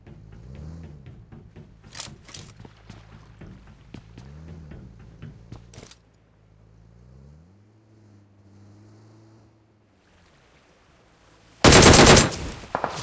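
A DP28 machine gun in PUBG Mobile on Erangel fires in rapid bursts of close, sharp shots. A low engine hum and a sudden loud burst follow.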